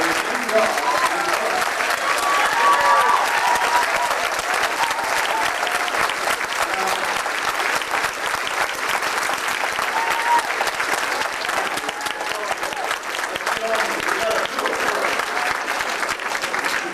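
A crowd at a 1992 political address in San Diego breaks into sustained applause, a dense, even roar of clapping that carries on for the full stretch without letting up.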